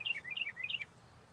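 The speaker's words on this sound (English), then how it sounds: "You can hear the birds chirping." Birds chirp in a meadow scattered with trees, a quick series of high, bright tweets in a short rhythmic run, faint and close, then quiet background.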